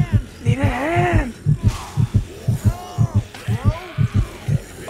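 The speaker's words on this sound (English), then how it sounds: "that fucking heartbeat." Heartbeat warning sound from the video game Dead Rising 2: Off the Record, a steady, loud double-thump pulse repeating throughout, overlaid with voiced tonal game sounds and no clear talk.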